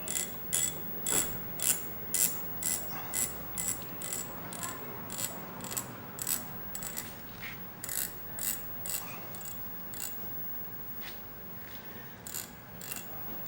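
A motorcycle cable adjuster wheel is wound in, giving a close, steady series of sharp ratcheting clicks in short regular bursts with brief pauses.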